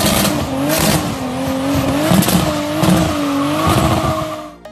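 A car with a VR6 six-cylinder engine accelerates hard, its loud engine note rising and dipping in pitch through repeated rev swells, close and dominant, fading away at the very end with no speech.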